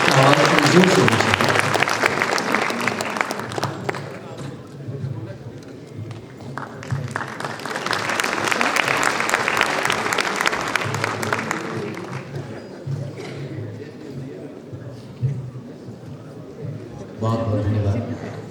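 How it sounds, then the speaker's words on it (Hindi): Audience applause at a law university convocation ceremony: a crowd claps in bursts that swell and fade across the hall, with a speaker's voice over a PA system talking between and over the clapping. "तालियों का आवाज थोड़ी जोर से होनी चाहिए।"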